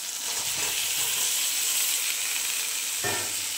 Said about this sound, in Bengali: দিয়ে দেবো ভেজে রাখা আলুগুলো